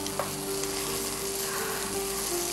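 Eggs scrambling in a pan on the stove give off a steady, close sizzle and crackle with faint stirring, holding an even level for the whole stretch with no talking.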